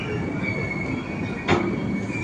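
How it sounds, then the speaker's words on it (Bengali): A long-distance express train from Agartala to Delhi rolls into a station, its wheels squealing steadily with a low rumbling undertone and a short sharp burst midway. "আগরতলা থেকে আসলো, দিল্লি যাবে ট্রেনটা।"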